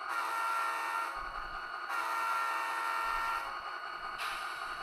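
A train on a model railroad layout moves through switching operations near Huntington Beach industries, making a steady, close whirring drone that shifts in tone as it starts and stops.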